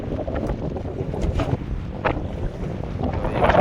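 Sea waves slap and wash against a fishing boat at sea, a continuous rough rushing with wind buffeting the microphone and no voices.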